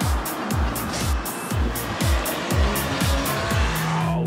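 A VW Golf race car is driven hard on a track, its engine roaring loudly up close through a rhythmic run of repeated rises with tire squeal, and no one talks.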